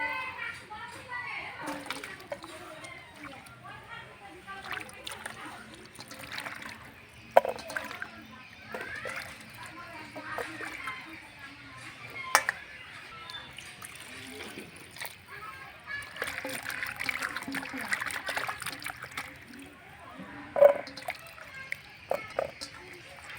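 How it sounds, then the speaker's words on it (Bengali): Cut potatoes are washed by hand in water, with intermittent splashing and sloshing close by while voices talk in the background. "আলু কাটা হয়ে গেছে, এবার জল দিয়ে ভালো করে ধুয়ে নেব।"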